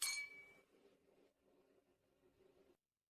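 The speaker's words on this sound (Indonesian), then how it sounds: "Pak Wang, aku bersulang padamu." Drinking glasses clink together in a toast, a single bright close chime at the start that quickly fades, followed by faint low room murmur.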